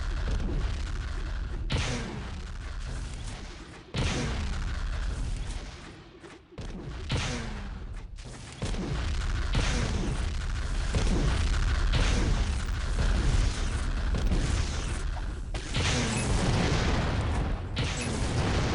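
Enemy fire in a video game aimed at the player at close range: heavy, booming cannon-like shots and blasts that dominate a dense, loud battle din, with a brief lull midway before the explosions resume.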